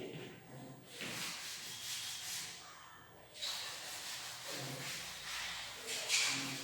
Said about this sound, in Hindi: अभी मैं इसे रब करूँगा